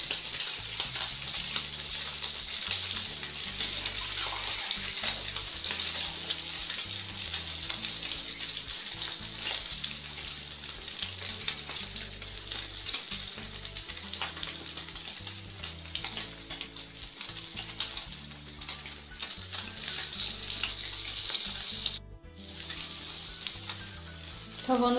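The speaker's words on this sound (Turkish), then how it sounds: "Tavanız iyice kızdığı için İkinci tur ekmekleriniz çok çabuk kızaracaktır." Bread slices fry in a very hot pan, a dense continuous sizzle with crackling spatter that runs loud and steady, with a brief dip near the end.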